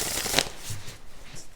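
Tarot cards are shuffled in one quick riffle, a short soft flutter with a sharp flick at the start, followed by faint rustling in a quiet room.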